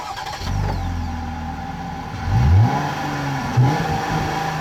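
A 2021 Jeep Gladiator's 3.6-liter Pentastar V6 idles, then revs sharply twice in quick succession, close and fairly loud, settling back to a steady idle between blips.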